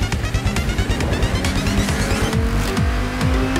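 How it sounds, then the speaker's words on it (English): A racing car engine in the video game Payday 2 roars continuously with pitch sweeps as it shifts, while tires squeal and skid repeatedly, loud and close. "God, this car is loud!"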